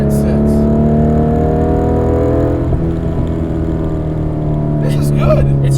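A modified Porsche 964 Carrera 4 engine drones steadily from inside the car while driving, a continuous low hum with rising tonal bands, mixed with cabin noise and a brief rustle near the end.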